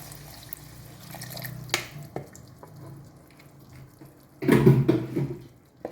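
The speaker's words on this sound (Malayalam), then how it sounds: "ഇനി കുറച്ച് വിനീഗർ ഒഴിക്കാം." Vinegar poured into a pan of Indian gooseberry pickle makes one short, splashy burst of liquid near the end, after quiet kitchen clatter and a faint hum.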